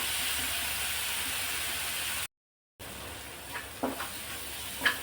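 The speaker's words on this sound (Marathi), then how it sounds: "आता हा परतून घ्यायचा आहे आपल्याला" Green chilies sautéing in a pan while preparing a village-style eggplant bharit, a steady hiss of frying interrupted by a brief silent gap, then soft clinks and stirring scrapes near the end.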